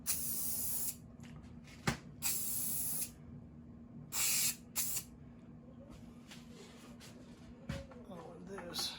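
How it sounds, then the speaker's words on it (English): Undercoating sprays in several bursts onto the tailgate of a 1952 PD4103 bus under restoration, loud hissing blasts of varying length separated by quiet gaps and faint handling noises. "I'm gonna spray this."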